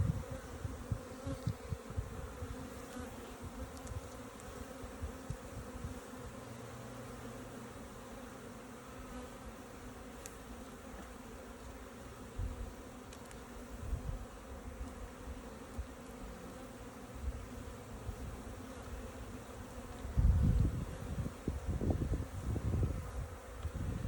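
Honey bees buzzing around an open hive during an inspection, a steady low drone throughout with a few louder passes near the end, moderately faint and without speech.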